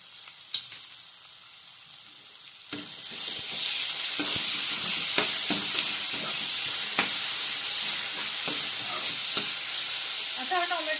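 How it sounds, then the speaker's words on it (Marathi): Softened onion sizzling in a pan as tomatoes and salt are added: quieter frying at first, then a sudden louder, sustained hiss with scattered stirring scrapes and clicks. "हा कांदा मऊसूत फ्राय झालेला आहे त्याच्यामध्ये टॉमॅटो टाकून घ्यायचा आहे"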